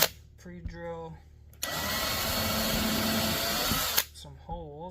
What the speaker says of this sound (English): we made a mark and we're just gonna pre-drill